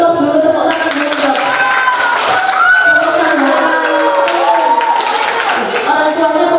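A class of sixth-grade children claps hands together in a dense, lively burst of applause, mixed with excited voices and talking throughout.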